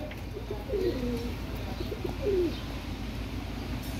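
Teddy pigeons coo twice in a loft, soft rolling calls over low steady background noise.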